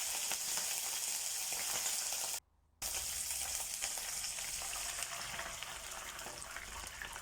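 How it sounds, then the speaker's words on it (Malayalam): Gooseberries sautéing in sesame oil in a pan make a faint, steady sizzle with soft stirring, broken by a brief moment of silence, with no voices. "ഒന്ന് വഴക്കി നല്ലെണ്ണയിൽ ഒന്ന് വഴക്കിയെടുക്കുക"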